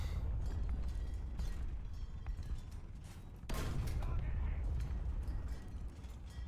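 A tank cannon in War Thunder fires with one sharp, loud blast partway through, over steady engine rumble and battle noise, with fainter booms before and after.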